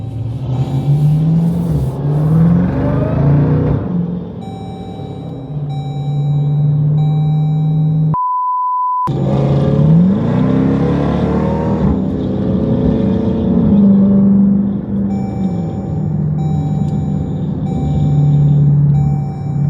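A Jeep Trackhawk idles and revs for spins, its deep engine surging in repeated rises and falls, loud and close, with a steady electronic chime tone running alongside and a brief pause midway.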